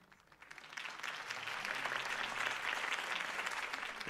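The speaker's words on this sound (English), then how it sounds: "If only Mr. Wayne, my campaign's largest backer, could have heard that applause" Crowd applause after a campaign speech in the Batman Telltale video game, a dense clapping that swells within the first second and holds steady and fairly loud.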